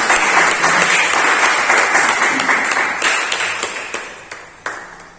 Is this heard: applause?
yes